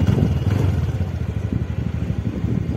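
A TVS Ntorq scooter engine runs close by with a steady low mid-range drone and a light mechanical clatter throughout, no clear rev peak, alone without talk.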